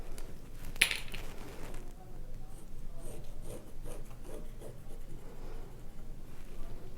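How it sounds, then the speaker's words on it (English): A diagonal line is drawn on quilt fabric, making faint, soft scratchy strokes close by in a quiet room, with one sharp tick near the start. "Draw your diagonal line."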